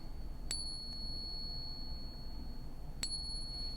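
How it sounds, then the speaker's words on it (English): A silver object is struck twice, a few seconds apart; each strike gives a faint, clear, high bell-like ring that lingers over a quiet background hiss. "That's the sound of silver."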